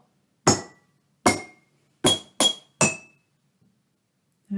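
Rectangular glass jar tuned to G tapped in a short rhythm: five bright clinking strikes, close and clear, with two quick taps near the end, each ringing briefly before fading.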